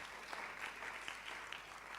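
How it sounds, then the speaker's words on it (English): Audience applause at a public lecture, a steady wash of clapping from a crowd that carries through the whole moment without talk. "We'll clap for him anyway."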